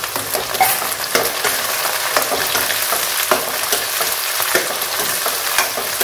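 Tomatoes sauté in a pan for a village fish curry, a dense continuous sizzle with regular scraping strokes of a stirring spoon close by.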